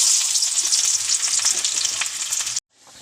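Onions sizzle and fry hard in hot oil in a clay pot, a loud crackling hiss with stirring, then the sound cuts off abruptly and returns faint.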